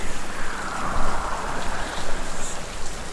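A waterfall in the video game Hellblade: Senua's Sacrifice roars as a steady, loud, dense wash of rushing water, close and unbroken, with no voices.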